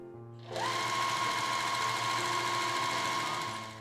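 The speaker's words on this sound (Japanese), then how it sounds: "この後はこちらの脇を1センチで縫っていきます。" A sewing machine stitches the 1 cm side seams of a dress, starting after a brief pause into a loud, close, steady whirring run that holds evenly before easing off at the end, with no talking.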